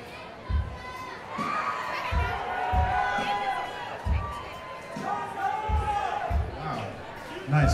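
Concert crowd at a show in the Roseland Theater, Portland, a busy murmur of chatter and shouts with a few sharp thumps and bursts of cheering rising over the room noise.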